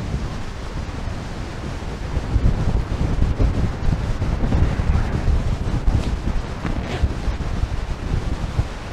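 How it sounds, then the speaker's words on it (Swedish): Strong wind at the Särö Västerskog nature reserve on the Halland coast, Sweden, buffets the microphone with heavy rumbling gusts, while surf washes in the background; no talking. "Det är en rejäl blåst här nere, va?"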